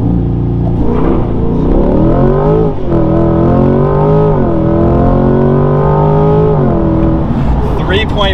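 A 2022 Chevrolet Corvette C8 on winter tires accelerates hard, its engine note rising steadily through several gears with brief dips at each shift, loud and close, with faint tire squeal under the roar.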